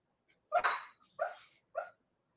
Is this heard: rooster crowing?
no